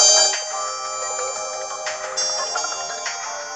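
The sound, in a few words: video game music played on a Nintendo DS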